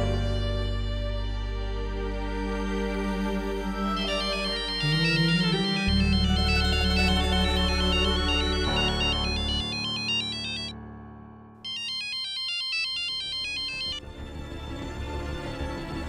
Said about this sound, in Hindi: बेटा, आकृति को फोन लगाओ